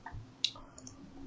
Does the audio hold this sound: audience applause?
no